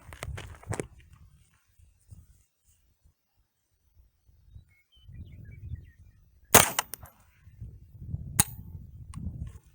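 Smith & Wesson M&P 15-22 rifle firing on an outdoor range, with two sharp, loud shots spaced a couple of seconds apart, plus an earlier crack, among quieter rustling and handling noise.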